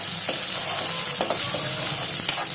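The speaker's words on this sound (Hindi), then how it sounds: "प्याज को थोड़ा सा मैं सॉफ्ट कर लूँगी।" Sliced onions soften in hot oil in a pan, a steady loud sizzle with a few sharp scrapes and clinks of the spoon as they are stirred, close and continuous.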